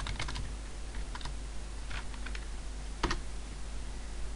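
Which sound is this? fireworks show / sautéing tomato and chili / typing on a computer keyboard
typing on a computer keyboard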